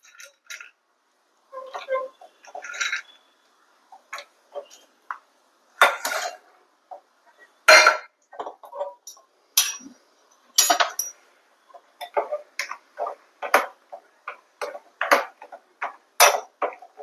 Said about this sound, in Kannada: ದ್ರಾಕ್ಷಿ ಗೋಡಂಬಿನ ಕರೆದು ಅದಕ್ಕೆ ಹಾಕೋಣ